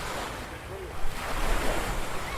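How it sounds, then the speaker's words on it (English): Ocean waves wash steadily with a broad hissing roar, near and constant, with gusty wind buffeting the microphone, captured on a surround sound recorder. "You can see the waves and stuff on the right-hand side."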